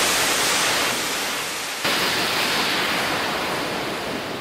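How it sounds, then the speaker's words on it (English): A white noise impact effect from a Serum synth preset, an industrial sound design patch: a loud, sustained broadband hiss that holds steady for over four seconds, with a sharp re-accented swell near the midpoint and no voice. "White noise impact."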